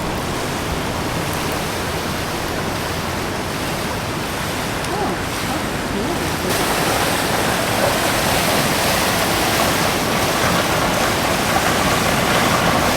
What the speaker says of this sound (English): Let me show you the pool.